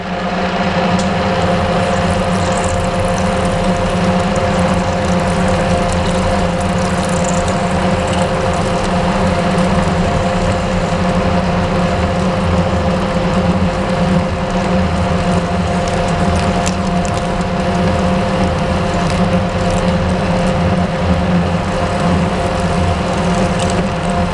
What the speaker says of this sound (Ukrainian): Просверлили.